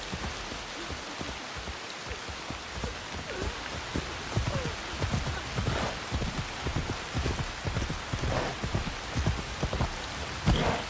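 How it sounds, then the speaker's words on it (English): Steady rain falls during a very rainy spring, a dense continuous patter of drops striking surfaces, even and moderately loud throughout with no voices. "A very rainy spring."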